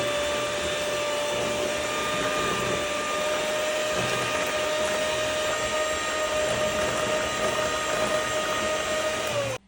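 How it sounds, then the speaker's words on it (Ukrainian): An electric hand mixer beats cake batter with a loud, steady motor whine that holds one pitch for nearly ten seconds and then cuts off abruptly, with no voices over it. "Беремо містер міксер і ретельно все перебиваємо."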